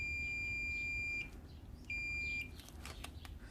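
Multimeter continuity beeps while testing a fuse: two sustained high electronic tones, each about a second long with a short gap, followed by a few faint clicks.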